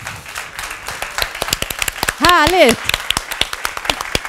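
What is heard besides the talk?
audience applause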